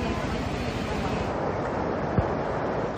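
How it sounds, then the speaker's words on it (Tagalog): Heavy floodwater rushes through the town of Maria Aurora after nearly nonstop rain, a steady, loud, broadband roar with no letup for the whole stretch. "Ganito naman kalawak ang rumagasang baha sa bayan ng Maria Aurora"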